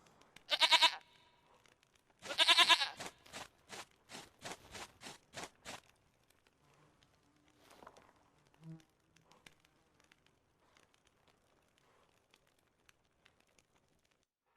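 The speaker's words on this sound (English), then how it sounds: "Goat of mine, dearest, sweetest goat." A goat in The Witcher 3 video game gives two loud, wavering bleats, followed by a rapid series of shorter rhythmic pulses that fade into faint background game sounds.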